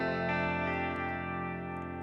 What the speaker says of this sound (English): This is the sound with the delay and the chorus and the reverb.